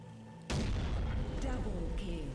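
Tank cannon fire from Unreal Tournament 2004 booms loudly in a single heavy blast that rolls into a long rumbling tail, with a second fainter burst toward the end.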